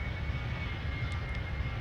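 A Boeing 757 in the Extreme Landings Pro flight simulator game gives a steady, broadband engine roar with a low rumble, unbroken and fairly quiet throughout the short stretch.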